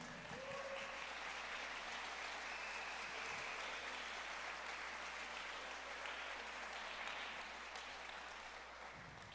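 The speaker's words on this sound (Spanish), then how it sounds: "Si tú lo crees, dale un fuerte aplauso al Señor." A church congregation applauds, a broad, continuous wash of clapping heard from some distance at a moderate, steady level.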